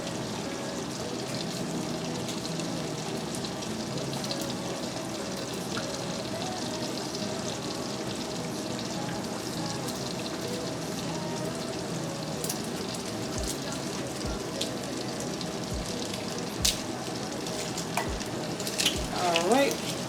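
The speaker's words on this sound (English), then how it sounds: "That pork chop smells so good while it's frying." A pork chop fries in a pan with a steady, close hiss and crackle of hot oil that holds for about twenty seconds, with a few sharper pops and light utensil clicks near the end.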